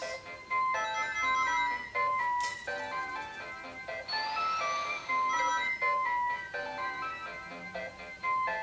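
A circuit-bent Sega Mega Drive runs Sonic the Hedgehog and plays glitchy, looping chiptune tones with stuttering notes and a rising sweep near the middle, moderately loud and without speech.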